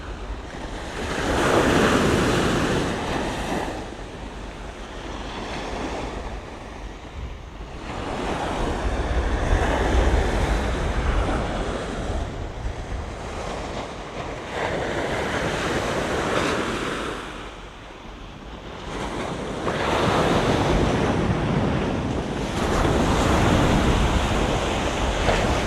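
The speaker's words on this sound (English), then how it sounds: "This is the one to the north of the island, northernmost beach at the Crane." Waves roll in at Crane Beach, Barbados, surging and receding in broad swells about every five seconds, with heavy wind buffeting the microphone and no voices.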